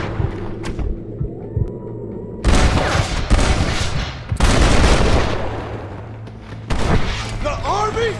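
Gunfire from Red Dead Redemption, with bursts of shots and booming reports in several loud clusters over a low game hum and ambience, separated by quieter stretches.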